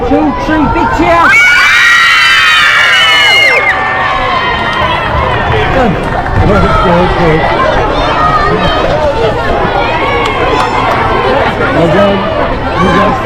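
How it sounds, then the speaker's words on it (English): A Gaelic football team gathered for a huddle lets out a big group cheer, a loud burst of massed shouting and children's voices that gives way to excited chatter and crowd noise close by. "Right, 1, 2, 3, big cheer."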